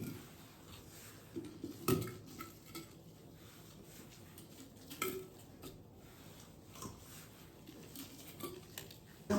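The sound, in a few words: filling a jar with onions for pickling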